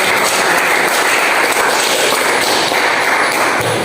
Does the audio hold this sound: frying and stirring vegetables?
no